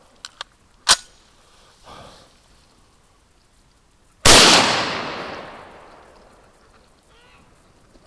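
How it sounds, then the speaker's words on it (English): Warning shots fired at coyotes outdoors in winter: a sharp crack, a faint thump, then a loud report trailing into a long fading echo across open ground. "we'll let a couple warning shots go here, and hopefully that'll get rid of them"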